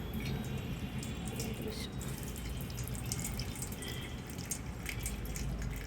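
Liquid, a mixture with slaked lime stirred in, trickles and splashes steadily into a container, a continuous watery pouring sound over faint background hiss, without speech.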